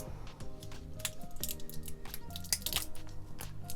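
Quiet snipping and squishy cutting sounds from small cutters removing insulation film from a Starlink cable, a few close clicks and crunches against faint background hum.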